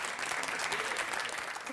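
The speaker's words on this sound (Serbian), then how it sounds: "E, sad aplauz." A TV studio audience on a Serbian entertainment show breaks into steady, dense applause, loud and continuous from start to finish with no voices on top.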